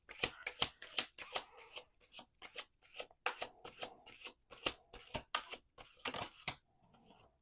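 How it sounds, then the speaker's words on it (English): A deck of playing cards being riffle-shuffled at a card table, with a run of crisp, rapid flutters and snaps in quick bursts, close and clear, ending in a short settling rustle. "let's do one more shuffle."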